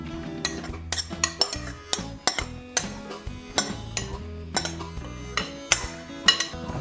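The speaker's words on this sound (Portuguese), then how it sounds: "Ir colocando a farinha e ir mexendo todo esse tempero." A spoon strikes and scrapes against a mixing bowl while flour and seasoning are stirred for baked kibbeh, giving a rapid series of sharp, close clinks and knocks in an uneven rhythm.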